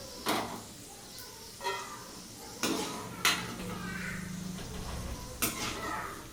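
Masala for cashew korma being stirred in a frying pan, with several distinct metallic scrapes and knocks of a utensil against the pan over a quiet background, with a faint low hum midway.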